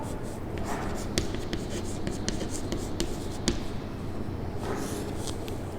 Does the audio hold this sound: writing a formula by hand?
yes